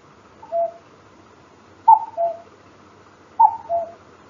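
A voice imitates a cuckoo: three repeated two-note calls, each a higher note followed by a lower one, evenly spaced and clear against near silence.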